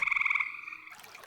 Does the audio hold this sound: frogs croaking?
yes